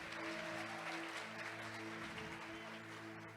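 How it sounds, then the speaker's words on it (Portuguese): A church congregation applauds after a hymn, faint, steady clapping heard from a distance over a sustained low hum. "pode aplaudir o Senhor Jesus"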